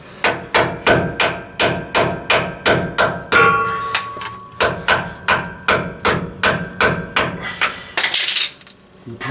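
A screwdriver is hammered into the seam of a rear differential cover on a 2008-2011 Ford, giving a close run of about twenty sharp, evenly spaced metallic strikes with a brief pause partway through.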